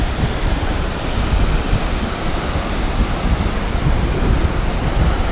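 A waterfall in Yosemite roars in a constant, loud wash of rushing water with no break, heard from nearby on a rocky trail.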